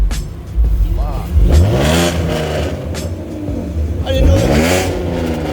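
V6 Ford Mustang fitted with a Roush straight-pipe exhaust revs hard nearby in a loud, raspy rise and fall, with two main blips, while people talk and react over it at a cars and coffee meet.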